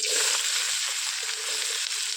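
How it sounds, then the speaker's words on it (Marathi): Onion dropped into hot oil for tempering, for a drumstick flower vegetable dish, sizzles in a steady, bright frying hiss close by, with faint stirring clinks underneath and no voices. "मी कांदो फोडणीत टाकतो"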